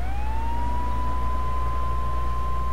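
In Grand Theft Auto III, an ambulance siren holds a steady, continuous wail over low traffic rumble, moderately loud and with no speech.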